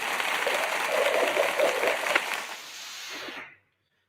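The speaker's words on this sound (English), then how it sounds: "Yeah, we'll even give you a round of applause." A round of applause from a small group during a casual gaming chat, a steady broadband patter of clapping that swells and then stops abruptly.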